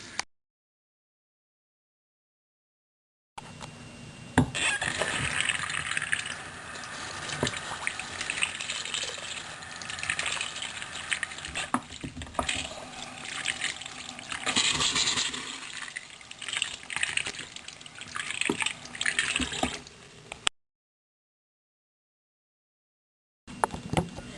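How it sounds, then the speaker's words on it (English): Steady rush of tap water running for about seventeen seconds as a brush is wetted, with a few small knocks and shifts in the stream, then silence before a brief burst at the end. "So, you're going to run your brush in water."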